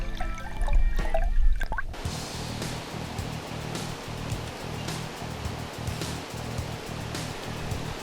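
River water flows steadily during salmon and sea trout fly fishing on the Mörrum river in summer low water, a close, even rushing wash with soft rhythmic lapping and a few drips, heard alone.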